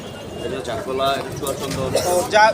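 Pigeons cooing at a busy weekly pigeon market in Kaptan Bazar, Dhaka, with soft repeated coos and bird calls mixed under close bargaining chatter.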